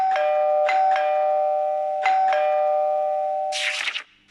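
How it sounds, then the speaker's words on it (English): A home doorbell chiming twice, each time a clear two-note ding-dong with a long ringing decay, ending in a short burst of noise; close and loud with no talking. "Doorbell goes ding dong."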